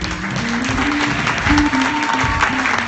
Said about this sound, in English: let's clap our hands for Bishop Warner.